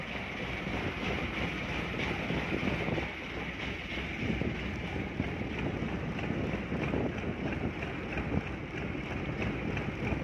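A boat motoring across open water with steady engine rumble, rushing water and wind buffeting the microphone, continuous and fairly loud throughout with no voices.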